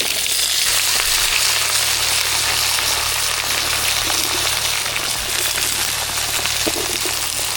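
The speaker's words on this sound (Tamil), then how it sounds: "சூடாயிடுச்சு கடுகு சேர்த்துக்கலாம் இது கூட கருவேப்பிலை சேர்த்துக்கலாம் இது கூட உருளைக்கிழங்கு சேர்த்துக்கலாம்" Mustard seeds, curry leaves and potato pieces frying in hot oil for a mango, drumstick and brinjal sambar, a loud, steady close-up sizzle and crackle that runs without pause.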